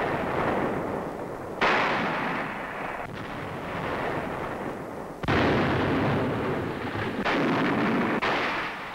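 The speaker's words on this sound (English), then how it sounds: "The United States Navy hurls thousands of shells into enemy positions." US Navy ships firing shells in a heavy naval bombardment of Okinawa in 1945, a string of loud booming blasts, four or five big reports each rolling into a rumbling decay, with no voices.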